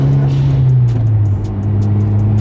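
A manual car engine running at about 3,500 RPM shifts into third gear, a steady droning hum whose pitch drops partway through as the gear changes, with faint road noise throughout.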